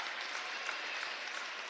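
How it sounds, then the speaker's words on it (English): Crowd cheering and applause fill a swimming pool natatorium during a college diving meet, a steady, dense roar of clapping and shouts with no pauses. "A lot of cheering at the Weber pool."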